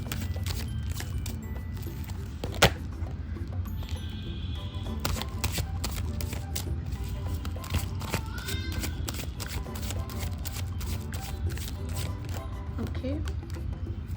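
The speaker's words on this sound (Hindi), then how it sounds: "मैं अब आपके लिए और कार्ड्स पुल करती हूँ।" Tarot cards are shuffled and pulled, with soft riffles, flicks and light taps going on under someone talking.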